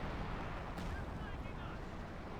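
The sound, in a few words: artillery strike in Company of Heroes 2 video game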